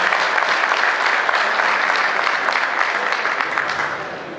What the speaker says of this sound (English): let's just give her one more round of applause